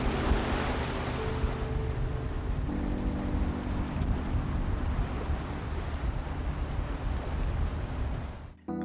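Water washes steadily past the hull of a sailboat motoring through a Norwegian fjord, a continuous broadband rush with a low engine hum beneath it. The sound stays loud and close until it cuts off near the end, with no talking.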